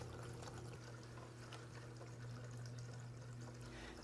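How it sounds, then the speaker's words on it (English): Water trickles and splashes steadily through a garden fountain's water distribution unit, a soft, continuous flow with no pauses and no voices. "wait at least 10 minutes to see if the water will flow over all by itself"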